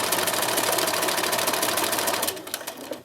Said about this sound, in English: I have my machine set on needle down